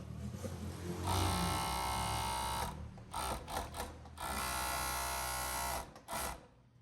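An overlock sewing machine stitches a blouse hem in long, loud, steady whirring bursts, pausing between runs with short stop-start spurts, close by and without talk.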